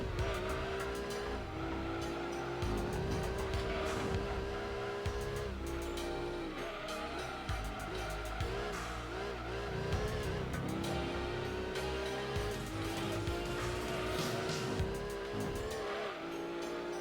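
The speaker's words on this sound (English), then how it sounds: "oh, that car has crashed. Oh no! And it's crashed me." Race cars roar continuously through an endurance race at Seattle Circuit in Gran Turismo, engines whining and shifting pitch with tire squeal and a crash, loud and steady throughout with no talk over it.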